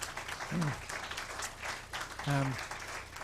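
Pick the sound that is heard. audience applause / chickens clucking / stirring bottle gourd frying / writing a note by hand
audience applause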